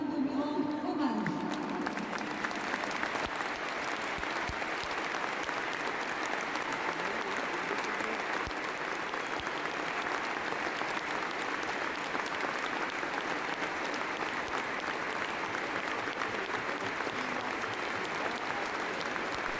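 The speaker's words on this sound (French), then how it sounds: "Je vous remercie de me réserver une minute d'applaudissement afin de lui rendre hommage." A crowd gives a sustained minute of applause in tribute to a deceased Top 14 rugby player, dense continuous clapping at a steady level from start to finish, with some brief voices at the very beginning.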